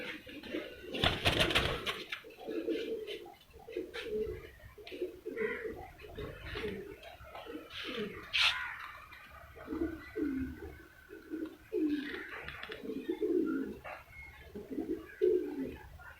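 A female racing pigeon named Chandi, released for flight at a pigeon-flying tournament, cooing in soft repeated low bursts near the microphone, opening with a brief rustle of wing flaps.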